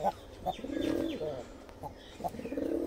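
Native pigeons cooing at a nest where chicks are being fed, soft repeated low coos in several phrases, fairly close, with faint chirps and other background sounds.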